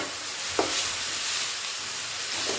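Onion paste with ginger-garlic paste frying in a pan for a Maithili raw-banana kofta curry, a steady close sizzle and hiss throughout with a couple of brief stirring scrapes and no voices.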